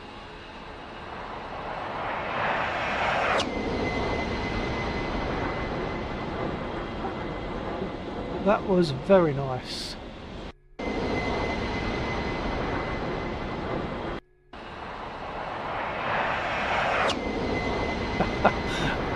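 A fixed-wing aircraft engine in the DCS flight simulator game drones steadily as a plane flies low, with a brief rising whine and a short voice partway through, the engine cutting out twice for a moment.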